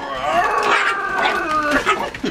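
A dog near a vacuum cleaner lets out a few whining, howling barks up close over a steady mechanical hum.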